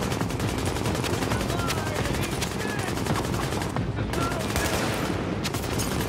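Enemy gunfire in The Division video game, dense continuous rapid-fire shots like a machine gun, loud and relentless over a busy combat soundscape, with no pause.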